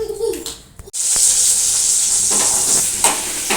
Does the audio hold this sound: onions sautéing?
yes